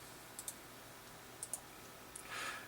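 Soft mouse clicks on a Windows 8 computer come in small pairs, one near the start, another double click about a second later and a lone click after, all faint and close with no talk.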